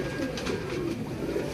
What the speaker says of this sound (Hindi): वो माशाल्लाह जी बहुत लाजवाब कबूतर हैं जी